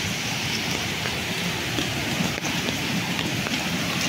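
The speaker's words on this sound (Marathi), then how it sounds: "जोरातलं पाणी आलं आहे" Flooded river water rushes past in a loud, unbroken roar of broadband noise, close and constant with no voices.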